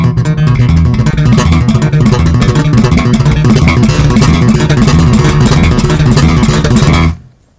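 Bass guitar playing a major seventh chord with a thumb-and-finger funk technique, a dense, continuous busy groove with strong low end throughout, cutting off abruptly near the end.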